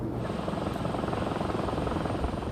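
A small Robinson helicopter flies overhead, its rotor beating in a fast, steady low thump over a continuous engine drone, loud and unbroken.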